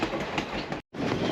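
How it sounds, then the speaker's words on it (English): The Williams Flyer train of the Grand Canyon Railway rolling along the tracks, a steady loud rumble and clatter of wheels heard from on board, broken by a brief moment of silence. "The name Williams Flyer is the name of this train."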